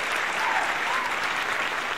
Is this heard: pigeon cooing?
no